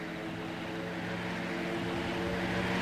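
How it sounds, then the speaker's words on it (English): A propeller airplane passes overhead in the survival game Rust, its steady droning engine hum loud and continuous throughout, with no talking. "Sounds suspiciously like a plane."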